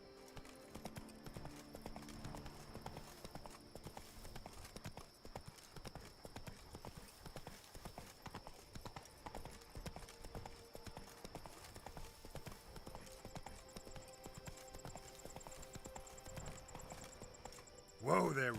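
Roach the horse clip-clopping along in Witcher 3, a steady, even rhythm of hoofbeats running throughout, with a game character's voice speaking over the trotting.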